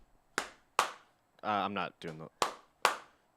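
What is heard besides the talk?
hand clapping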